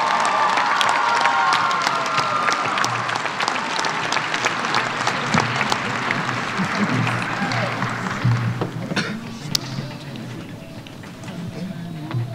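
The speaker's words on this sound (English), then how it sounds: "Let's give our top 10 a big round of applause for their hard work and dedication." A graduation audience at an early college academy applauds its top ten graduates, broad sustained clapping from a large crowd with scattered cheers, gradually thinning out toward the end.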